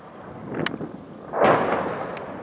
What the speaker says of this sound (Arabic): غارة جوية ثالثة من قبل الطيران الحربي تستهدف غارة على نفس المكان